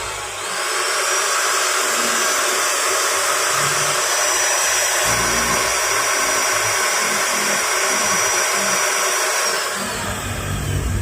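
A repaired Maktec MT192 electric wood planer runs continuously at full speed, a loud steady high-pitched motor whine with a brief spin-up at the start and slight wind-down at the end, no talking.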